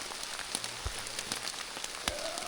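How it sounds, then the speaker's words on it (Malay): Steady rain pours down on a surface in a continuous broadband hiss, with scattered drop impacts standing out throughout, alone and fairly close. "Hujan membasahi."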